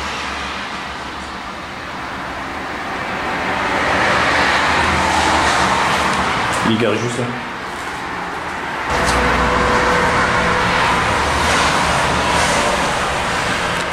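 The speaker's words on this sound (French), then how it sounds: "Ah ouais, juste là, il y a une voiture." Car passing close by on a road at night in France, a broad rushing roar that swells and fades, followed by a second vehicle pass, with a brief voice speaking in the middle.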